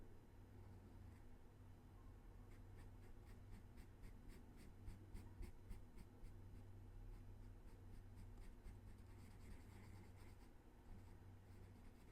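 A red marker scratches softly across paper in close, steady strokes, a quiet, continuous scribbling texture with a faint background hum and no talking.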